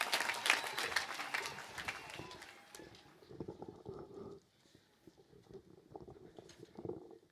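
Applause from an audience welcoming MP Ndindi Nyoro at a funeral service in Nyandarua, Kenya. The clapping is strongest in the first few seconds, then fades into scattered, softer claps mixed with crowd murmur.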